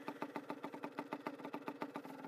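A Yamaha DT 50 motorcycle's small warm engine idles low and close, a fast, even putter of regular pulses with no other sounds.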